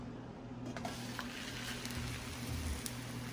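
Tortilla wrap toasting in a sprayed pan, a soft steady sizzle close by with a few light scraping touches.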